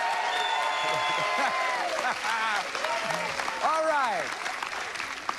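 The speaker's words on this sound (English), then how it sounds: "Let's have a nice round of applause for Lacey Pemberton" Game show studio audience applauding for a contestant, steady clapping throughout under a host talking and other voices.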